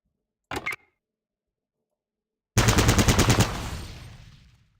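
Gunfire at a training dummy in the video game Fallout Tactics: a brief burst of two or three loud shots, a long silence, then a rapid automatic volley of about eight shots that trails off into a fading echo.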